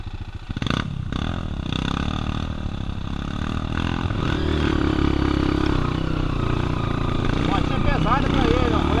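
A Honda Tornado 293cc trail motorcycle being ridden on a dirt trail gives a rough, clattering engine note that starts choppy and builds into a sustained drone, with people talking over it.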